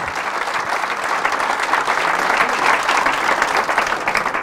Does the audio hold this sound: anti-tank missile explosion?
no